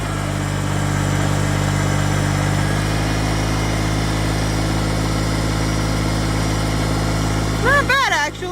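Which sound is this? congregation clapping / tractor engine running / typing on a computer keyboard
tractor engine running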